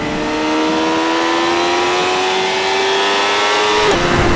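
A 2012 BMW S1000RR sport motorcycle engine revs loudly and close up, holding a strong steady high-pitched howl that climbs slightly before dropping off abruptly near the end.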